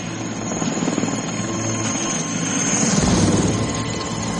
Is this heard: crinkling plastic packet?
no